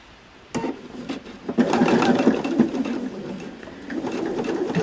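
A sewing machine runs a short back stitch on a quilt star piece, producing a steady close mechanical whirr of needle strokes that starts abruptly and continues with slight changes in speed.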